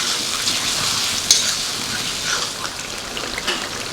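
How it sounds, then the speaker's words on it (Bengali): Chicken chaap pieces in their marinade sizzling in hot oil, a steady close frying hiss with small crackles and pops throughout, no talking. "যা ম্যারিনেশন ছিল সব সমেতই তেলের মধ্যে দিয়ে দিতে হবে।"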